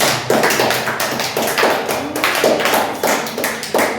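A class claps for a classmate named Kirtana, close and loud ragged hand claps with uneven bursts and dips over about four seconds, no speech over them.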